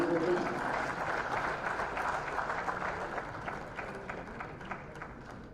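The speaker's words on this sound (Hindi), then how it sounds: "जोरदार तालियां संजय वर्गीस जी के लिए हो जाएं।" An audience at an investment summit applauds an investor from the energy sector, steady clapping that slowly thins and fades over several seconds, a little distant in a large hall.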